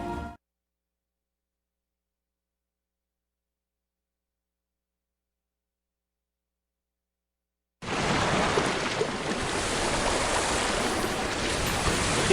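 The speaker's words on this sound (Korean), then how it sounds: "힘차게 떨어져 내리는 폭포," Waterfall ambience from a Nintendo Switch visual novel: a steady, full roar of falling water starts abruptly about eight seconds in after near silence, then holds constant and loud to the end.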